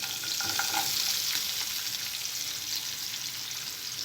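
Onion pieces and green chillies sizzle in hot oil in a pan while cooking Hyderabadi egg kurma, a steady close hiss of frying with a few brief clinks and stirring scrapes early on, and no voices.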